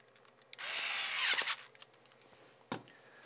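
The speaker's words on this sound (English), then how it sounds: "tighten it with the electric screwdriver" An electric screwdriver drives a screw into a camera mount with one close whirring burst about a second long, followed by a faint click and a short sharp tap.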